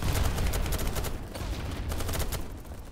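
Rapid bursts of gunfire from a large capture the flag video game match, loud and dense, with overlapping shots rattling continuously throughout.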